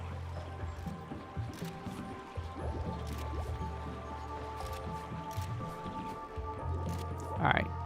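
Water being pumped in the game Oxygen Not Included: a steady low hum with soft dripping and gurgling liquid sounds, continuous over a game soundscape, with a brief sharper splash near the end.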